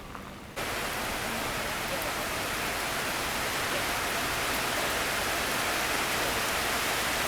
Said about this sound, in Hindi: इतनी ज़ोरदार बारिश शुरू हो गई है